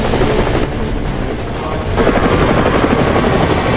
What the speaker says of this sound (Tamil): பின்னாடியே ஒரு ஹெலிகாப்டர் வந்து தோர்த்துக்கிட்டே வருது.